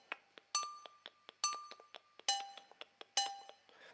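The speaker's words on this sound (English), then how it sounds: "This is the sound of the agogo." Agogo, the Brazilian two-bell percussion instrument, played alone in a quick syncopated pattern: bright metallic clinks alternating between two pitches, with ringing accents and lighter taps in between, close and clear.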